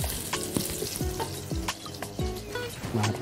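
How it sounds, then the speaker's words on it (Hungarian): Smoked Hungarian streaky bacon frying in a little melted pork lard, a close, steady sizzle broken by repeated scraping stirs of a utensil across the pan, with no talking. "Na, teszünk alá egy pici zsírt, és akkor olvasszuk ki ezt a császárszalonnát"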